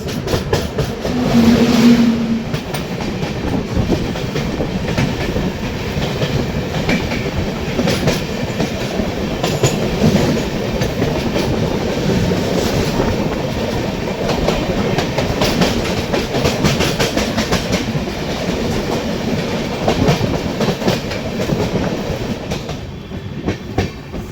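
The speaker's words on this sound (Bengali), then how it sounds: "সামনে আসছে ঝাড়খণ্ড স্বর্ণজয়ন্তী এক্সপ্রেস।" The Jharkhand Swarna Jayanti Express draws near with a loud, sustained rumble and steady clickety-clack of wheels over rail joints, unbroken for the whole stretch.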